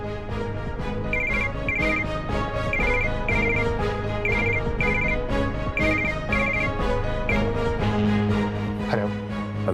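Phone ringtone playing on a call, a repeated melodic ring pattern in regular bursts over a steady musical backing, loud and continuous with no talking.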